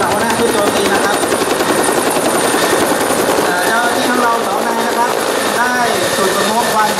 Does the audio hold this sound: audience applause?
no